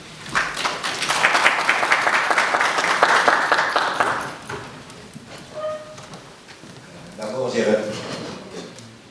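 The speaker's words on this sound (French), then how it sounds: "Nous pouvons l'accueillir avec des applaudissements." Audience applause welcomes a speaker at a funeral gathering, a broad wash of clapping for about four seconds that fades, then scattered sounds and murmuring voices with talk near the end.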